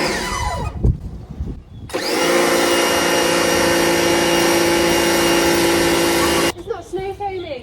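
A pressure washer with a snow foam attachment starts up and runs for several seconds with a loud, steady motor whine and hiss, then cuts off abruptly. People talk before and after it.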